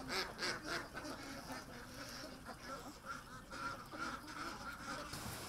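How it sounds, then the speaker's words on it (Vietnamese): A flock of grass ducks on a duck farm in Trùng Khánh quacks continuously in overlapping calls, a busy, fairly close chorus with no pauses. "Song song với nuôi vịt thương phẩm, chị Hà còn nuôi thêm vịt đẻ trứng"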